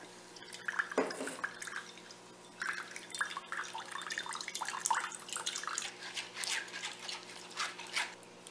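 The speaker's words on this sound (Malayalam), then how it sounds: "അതിനെ നമുക്കൊരു അരിപ്പയിലൂടെ ഇങ്ങനെ ഒഴിച്ചു കൊടുക്കാം." Blended grape juice, thinned with a little water, is poured through a strainer into a bowl, giving close, uneven splashing and dripping in irregular bursts that run on throughout.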